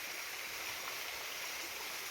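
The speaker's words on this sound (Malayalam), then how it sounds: "ചെറിയൊരു വെള്ളച്ചാട്ടം, ഇതൊക്കെ ഈ റോഡിൻ്റെ സൈഡിൽ വരുന്നത്" Steady broadband rush of a small waterfall stream running beside a forest road, continuous and even throughout with no voices.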